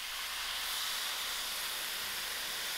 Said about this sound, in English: I am adding in my wine